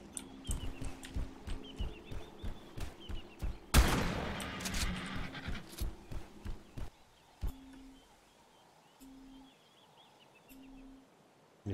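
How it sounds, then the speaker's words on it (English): Shotgun blasts and other gunfire from ARK: Survival Evolved, with a loud burst near the middle and scattered sharp shots before it, followed by quieter, sparser game sounds and short repeating tones. "Just go around and shotgun things."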